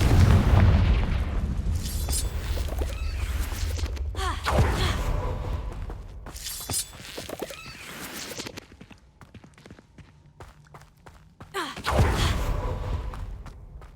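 Confringo fire spell in the Hogwarts Legacy video game, with heavy booming blasts near the start and again later, plus rumbling game effects, footsteps and breathy gasps between them.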